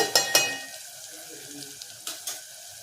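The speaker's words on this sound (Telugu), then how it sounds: "ఉల్లిపాయ ముక్కలు అయితే వేగినాయి" Onion pieces frying in a pan for a dried fish, brinjal and tomato stew, soft sizzling under a few scraping stirs and clinks of a utensil against the pan, close and fairly quiet.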